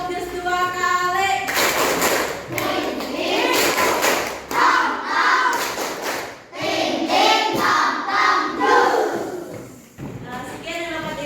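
A primary school class claps hands in unison at a teacher's cue, a burst of sharp claps following a woman's instruction, with children's voices and talk mixed in throughout.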